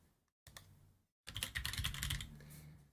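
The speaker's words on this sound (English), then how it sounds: "So just doing a bit of typing." Computer keyboard typing in two short bursts, the first brief and light and the second a longer run of dense, rapid clicking keystrokes, heard close up in a quiet room.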